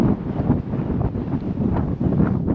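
Strong wind on a mountain trek in Munnar, buffeting the microphone in a loud, continuous roar with gusty surges across the short stretch, no talking heard.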